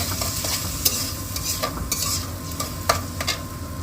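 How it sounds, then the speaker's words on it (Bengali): Tomato paste frying with chopped onions in a pan, a steady close sizzle broken by scraping stirs and a few sharp utensil knocks against the pan. "এরপর আমি পেঁয়াজের মধ্যে দিয়ে দিচ্ছি টমেটো পেস্ট"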